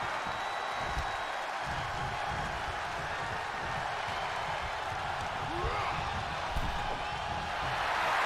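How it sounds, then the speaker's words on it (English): A wrestling arena crowd in the video game WWE 2K22 cheers and applauds in a steady, dense roar that fills the whole stretch, holding an even level under a faint wash of noise. "The sound of this crowd is deafening"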